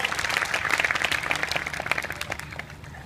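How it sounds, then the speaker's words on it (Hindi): Loud, dense audience applause at a Hindi-language rally speech, a steady crackling wall of clapping that holds for about three seconds with no talking over it. "एक बार इसके लिए भी जोरदार तालियां हो जाएं।"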